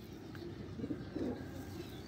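Soft, low pigeon cooing in a couple of short murmuring bursts over a steady low background hum, fairly close and quiet.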